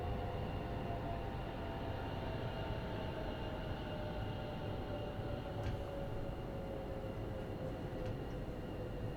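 A train braking on the West Coast Main Line South route in Train Sim World 5, a steady low rolling rumble with faint high brake squeal and occasional clicks, heard without talk.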